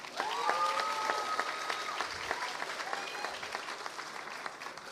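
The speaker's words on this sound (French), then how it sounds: "j'aimerais qu'on les applaudisse" Audience applause fills a graduation ceremony hall for a master's degree awarding, steady dense clapping throughout with a few faint voices and whistles rising over it, fairly loud and sustained.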